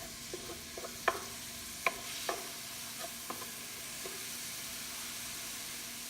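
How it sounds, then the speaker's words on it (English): Garlic sautés in a pan with a soft, steady sizzle, while a utensil clinks and scrapes against the pan a few times in sharp taps during the first few seconds. "Put our garlic. Let's saute it for a"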